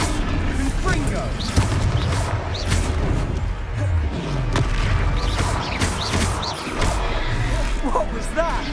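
Confringo blasting-spell explosions in the video game Hogwarts Legacy burst repeatedly with booming, crashing impacts over a dense, busy battle soundscape, with frequent loud hits throughout.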